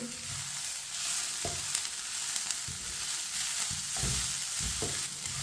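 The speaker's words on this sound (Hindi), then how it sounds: "बॉईल किया हुआ चिकन डाल लेंगे। इसे भी मिक्स कर लेंगे।" Boiled chicken pieces are stirred into a Chinese kabab mixture in a pan, a steady quiet sizzle with soft periodic thuds and scrapes of the spoon, close and low in level.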